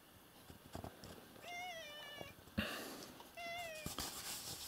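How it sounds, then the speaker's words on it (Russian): A grey cat near a village temple gives two drawn-out, wavering meows, close by and fairly quiet, separated by a short pause with light rustling between them. "Это мой котик серенький."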